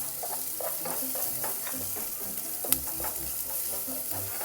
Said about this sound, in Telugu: ఇది మంచిగా ఫ్రై అవ్వాలి.